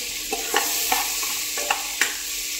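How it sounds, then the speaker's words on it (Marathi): Pav bhaji ingredients with a pinch of salt are stirred in a pan over gentle sizzling, with a spoon scraping and tapping about half a dozen times in quick succession. "आता हे सगळं आपल्याला व्यवस्थित मिक्स करून घ्यायचं आहे।"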